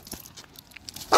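A dog gives a single sharp, loud bark near the end, after quiet indoor background with faint rustling.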